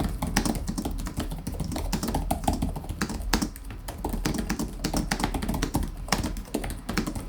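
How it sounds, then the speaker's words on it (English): Rapid, steady typing on an MSI GS66 Stealth gaming laptop keyboard, close up, with crisp key clicks tumbling one after another and no talking. "Keys sound great and I do like the fact that there is minimal wobble on the panel when typing"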